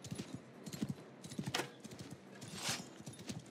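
Horse hooves clip-clopping at a gallop in the medieval battle game Mount & Blade Bannerlord, a steady rapid rhythm with brief whinnies, under game noise and distant clatter.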